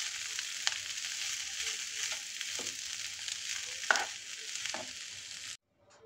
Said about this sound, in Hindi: पोहा डालते ही हमको इसको फटाफट चला देना है।